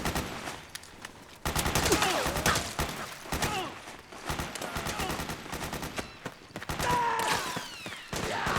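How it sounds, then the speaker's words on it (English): Dense machine-gun fusillade in the PS3 video game Metal Gear Solid 4: Guns of the Patriots, loud rapid bursts of gunfire continuing throughout with faint shouting mixed in. "Get the weapons and let's move! Suppressing fire!"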